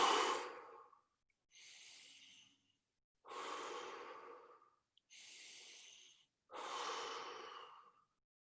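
Five quick breaths, each drawn in through the nose and pushed out through the mouth, rising and falling in a rapid close rhythm with short gaps between them. No one speaks.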